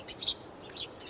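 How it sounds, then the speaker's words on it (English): Two short bird chirps sound in the video game From Day to Day, outdoors near a house with a well and animals, faint and brief over a low steady background. "birds and animals over here."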